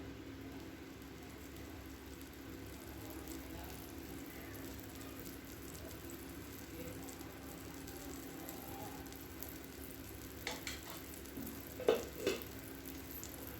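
Bottle gourd adai dosa fries in oil on a pan with a faint, steady sizzle, and a few light clinks come near the end.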